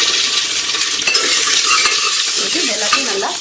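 Taro pieces, curry leaves and dried red chillies sauté in hot oil with mustard seeds, making a loud, continuous, close sizzle with stirring scrapes throughout.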